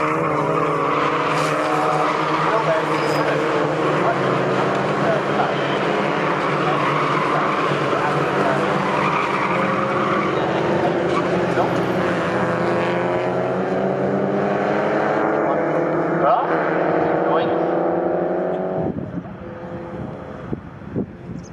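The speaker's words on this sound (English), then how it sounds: "And the leaders turn their way up to the end of the opening lap, with Ali Gray pulling clear." Mazda MX-5 race cars are racing at Snetterton in a BRSCC championship race, with a loud, sustained engine roar that climbs in pitch as the cars accelerate and then drops away near the end, under continuous race commentary.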